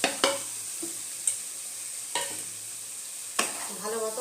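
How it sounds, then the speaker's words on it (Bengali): Pre-fried raw jackfruit and potato pieces drop into spice paste sizzling in a pan for a Bengali prawn curry. A steady loud frying hiss is broken by a few soft thuds and stirring scrapes, with no talking. "এর মধ্যে এবার আমি এই ইঁচড় আর আলু যে ভেজে রেখেছিলাম এগুলো দিয়ে দেব।"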